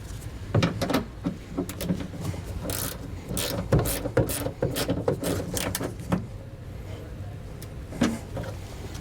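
Quiet clicking and ratcheting of a wrench tightening a bolt through a ring terminal on a 2020 Ford Transit, irregular metallic ticks and scrapes close by with no talk.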